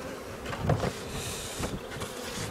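Honeybees hum steadily around an opened hive, a dense buzzing swarm heard close with slight swells in loudness and a couple of soft knocks.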